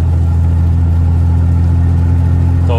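Exhaust of a Ford F-250 fitted with a 5-inch tip, heard from inside the cab as a steady, loud, low rumbling idle drone, with no talk over it.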